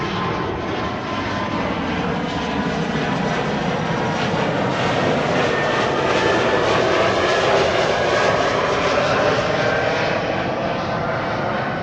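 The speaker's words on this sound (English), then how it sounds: "E2 Embraer 195." An Embraer 195 E2 jet airliner at Amsterdam Schiphol gives a loud, steady broadband engine roar that holds without a break for about twelve seconds, with no talking over it.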